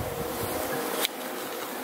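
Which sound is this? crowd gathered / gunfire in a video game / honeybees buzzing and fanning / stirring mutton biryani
honeybees buzzing and fanning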